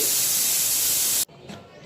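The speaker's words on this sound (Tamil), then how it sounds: "குக்கர் விசில் வந்துருச்சு." A loud, steady high-pitched hiss of steam jetting from a pressure cooker whistle while cooking mutton curry, cutting off abruptly partway through, followed by quieter intermittent hissing.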